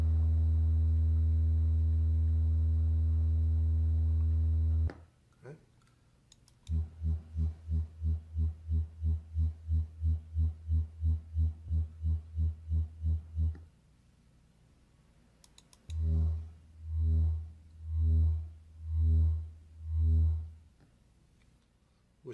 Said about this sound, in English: I'm going to play 3 different sounds. They're all at 80 hertz.